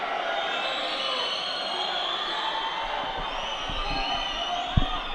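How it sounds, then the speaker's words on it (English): A large arena crowd at a judo Grand Prix in Tbilisi murmurs and jeers in a steady, dense roar of disapproval after a referee's penalty call, with a few thumps near the end. "the crowd are not very happy with that, as you can hear in the background"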